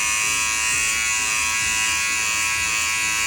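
Electric hair clippers trimming hair around the ear during a home haircut give a loud, steady, close buzzing hum that holds without a break through the whole stretch.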